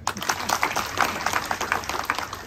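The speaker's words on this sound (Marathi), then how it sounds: "एकदा याही साठी टाळ्या वाजवा" An audience claps together at a gathering in a Buddhist vihara during a sermon, a steady patter of many hands that holds for the whole stretch at moderate loudness.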